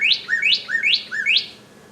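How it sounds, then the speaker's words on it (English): A northern cardinal singing: four or five clear, rising-then-dropping slurred whistles in quick succession, bright and fairly close over a quiet background. "There's a cardinal."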